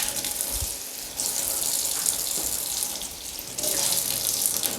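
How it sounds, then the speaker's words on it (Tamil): A hot-water tap in a villa kitchen sink runs steadily with a bright hissing splash, swelling louder partway through and again near the end, with no voices. "நல்ல ஹாட் வாட்டர் இங்கேயும் எடுத்துக்கலாம்."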